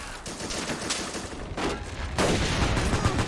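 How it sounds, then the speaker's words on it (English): Machine-gun fire from a .50 caliber gun against a tank in Men of War: Assault Squad 2, a rapid rattling stream with a heavier burst near the end. "50 caliber can penetrate that armor"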